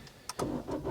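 A car engine cranks briefly and catches, settling into a close, steady idle; the car is an old vehicle with a rotary engine.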